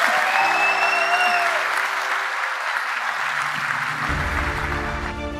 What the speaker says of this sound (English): you are going to get a massive, massive round of applause